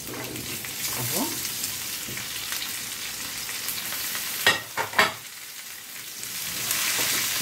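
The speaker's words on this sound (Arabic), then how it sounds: "ننزل بالخضار بتاعنا علشان يتشوي" Vegetables for a shish tawook dish frying in a hot pan, a steady close sizzle throughout with a few sharper crackles and stirring bursts midway.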